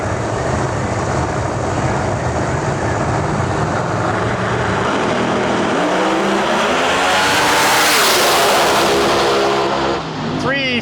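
Pro Mod drag race cars built by Larry Jeffers Race Cars make first-round qualifying passes at the Snowbird Outlaw Nationals, a loud, continuous roar of engines that swells and climbs in pitch near the end while an announcer talks over it.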